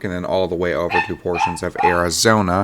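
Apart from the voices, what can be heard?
dog barking in the background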